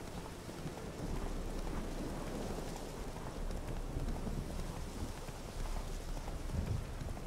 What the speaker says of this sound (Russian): Какой громкий дождь.